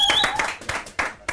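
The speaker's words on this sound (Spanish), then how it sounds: "Ramiro Piccoli, bienvenido con un fuerte aplauso" A studio audience breaks into a short burst of dense, lively clapping to welcome a guest on a Spanish-language TV interview show, with voices mixed in under the applause.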